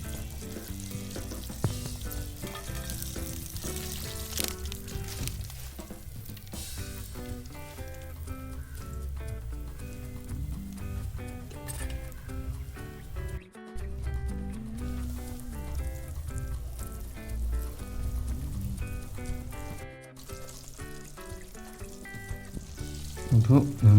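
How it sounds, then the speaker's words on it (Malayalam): Quail pieces deep frying in hot oil for broast give a steady, close crackling sizzle that continues without a break, with a voice talking over it at times. "അപ്പോൾ നമ്മളെ ലാസ്റ്റത്തെ ട്രിപ്പാണ് കോഴി പൊരിക്കണേണ്ടത്"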